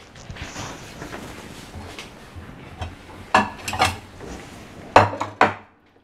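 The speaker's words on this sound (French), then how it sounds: "Je vais aller couper une pour vous montrer de l'intérieur comment ça va y être." A knife cuts through an almond-filled chocolate on a hard board, making soft scraping and a few sharp taps and clacks near the end, close and fairly loud, with no one speaking.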